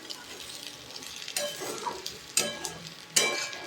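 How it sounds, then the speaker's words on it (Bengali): Rice frying in a pan with a low sizzle, broken by several scraping stirs of a spatula, close and clear, no talking. "চালটা দিয়ে বেশ কিছুক্ষণ ভালো করে ভেজে নেব"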